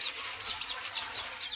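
Young chicks peep and cluck in quick high chirps while pecking at scattered rice grains, several short calls close by over a soft background hiss.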